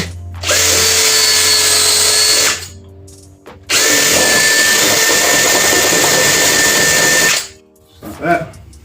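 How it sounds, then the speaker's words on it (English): A power drill whines loudly in two long bursts separated by a short pause while making door cards for a Camaro build, then a voice speaks briefly at the end. "you can just wobble the drill"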